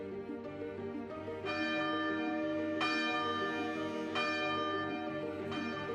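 Church bells at the Marist Mission in Green Meadows ring out in slow, resonant strokes, four strong strikes about a second and a half apart, each leaving a long shimmering decay.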